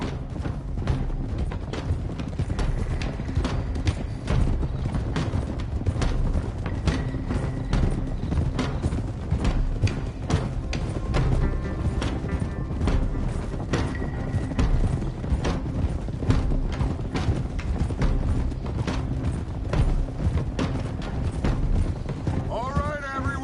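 Several horses gallop in the Western video game Red Dead Redemption, with rapid, continuous hoofbeats drumming close by throughout. A snort and occasional creaks of tack rise over the ride.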